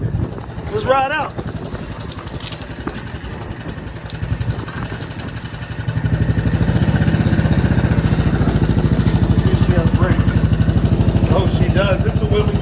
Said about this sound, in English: Get down there by that exhaust and let them hear that thump, folks.